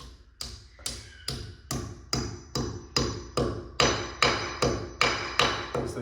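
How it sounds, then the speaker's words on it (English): A hammer strikes repeatedly as a bracket is driven into a wall, about fourteen crisp close impacts in a steady rhythm, each ringing briefly before the next. "He's gonna smash the hammer in."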